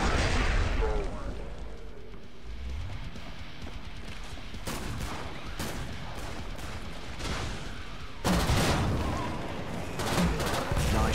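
Rapid bursts and volleys of video game gunfire from Killing Floor 2 crackle in uneven clusters, with a loud surge near the end and voices talking over parts of it.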